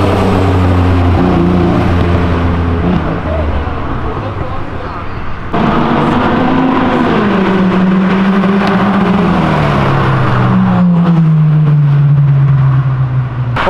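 A Mitsubishi 3000GT sports car drives past, its engine note loud and close, rising and falling in pitch as it nears and pulls away, with steady broadband road roar throughout.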